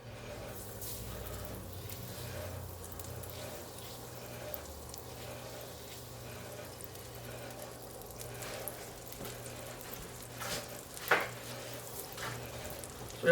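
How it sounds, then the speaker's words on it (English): Olive oil and butter sizzling in a warm pan, a faint, low sizzle that holds steady with occasional small clicks and soft bumps near the end. "I'm going to add about a tablespoon of olive oil and a tablespoon and a half of butter."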